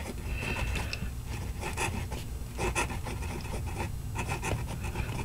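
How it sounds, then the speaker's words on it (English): Waterman Expert fountain pen with a steel nib scratching across paper as it writes, giving steady raspy feedback with short strokes and pauses, close and fairly quiet, with no talking. "As you probably can hear, this nib has a lot of feedback."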